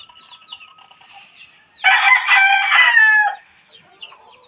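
A chicken crows loudly in a yard, a single long rooster call lasting over a second, with softer clucking and hen sounds before and after.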